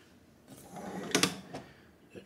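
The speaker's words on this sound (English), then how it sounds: "A drawer with the Bible in it and some storage area below there as well" A bedside drawer in a deluxe hotel room at Disney's Wilderness Lodge Resort slides open with a short wooden scrape and clunk, close and moderately loud, with no one talking.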